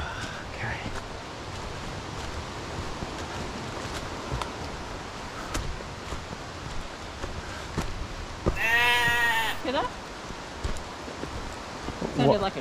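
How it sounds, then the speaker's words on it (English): A sheep bleats once, fairly distant, near a hiking trail at Larapinta Falls in Lamington National Park, the drawn-out cry rising above steady rustling outdoor ambience. "it definitely sounded like a sheep"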